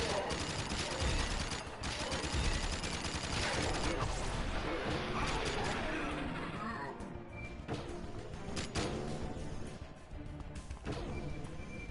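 Rapid gunfire in the video game Jak & Daxter: The Lost Frontier, dense bursts and crashes filling the first half before thinning into scattered shots and mechanical clatter, with game voices talking over parts of it.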